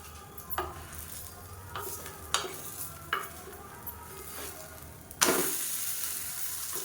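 A dosa fries on a pan with a soft, steady sizzle and a few sharp scrapes and taps as it is turned over. A sudden louder, bright hiss bursts up near the end when the dosa is pressed down.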